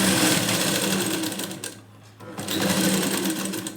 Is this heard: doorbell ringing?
no